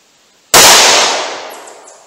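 .38 Special revolver with a 2-inch barrel firing a single loud, sharp gunshot outdoors, followed by a long fading echo and no voices.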